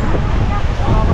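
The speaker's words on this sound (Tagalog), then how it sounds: "Ang lakas ang hangin." Strong wind buffets the microphone in an outdoor setting, a loud, continuous low roaring rush that persists throughout the short stretch.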